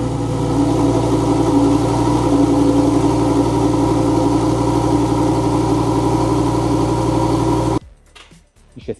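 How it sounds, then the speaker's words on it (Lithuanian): A Lamborghini Huracán EVO idles loud and steady with a deep, continuous engine drone and slight revving for about eight seconds, then cuts off abruptly to near silence. "o dabar galit pasiklausyti šio automobilio nuostabaus garso"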